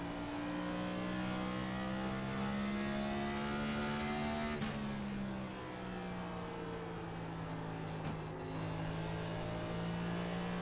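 Race car engine in the iRacing simulator on the Richmond oval, a steady loud high-pitched drone with engine pitch falling slowly, easing off with two brief shifts, running alone without talk.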